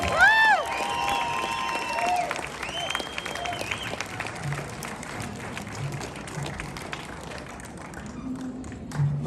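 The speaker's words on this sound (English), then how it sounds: "Let's give them all a big round of applause." Audience applause and cheering for Special Olympics contestants at a stage event, steady dense clapping across the whole stretch with some crowd noise, bright tones and a brief announcer-like voice early on.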